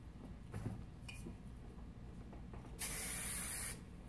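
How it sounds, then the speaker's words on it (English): A single hissing burst of fine spray lasts about a second against a quiet background with faint handling noises. "Spray so nice and light."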